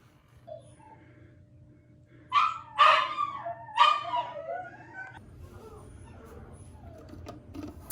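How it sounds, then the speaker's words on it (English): Dogs locked in a room inside a house bark in a few sharp, close yelps followed by softer whimpering, set against a steady low hum. "There's a couple of dogs that are locked up in a room and they're barking"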